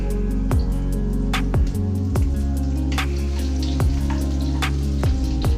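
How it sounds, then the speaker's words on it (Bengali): Chopped onion frying in hot oil with cinnamon, sizzling steadily in a pan while a spoon scrapes and stirs it in regular strokes roughly every second, close and clear. "হালকা নাড়াচাড়া করে এর মধ্যে দিয়ে দেবো পেঁয়াজ কুচি"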